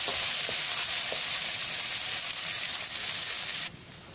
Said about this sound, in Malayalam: അരിഞ്ഞ് വെച്ചിരുന്ന ഉള്ളിയും സാമ്പാറുകളും ചേർക്കാം